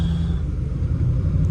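A 1979 Chevrolet Camaro idles with a deep, steady engine rumble, loud and close, a continuous low throb without speech.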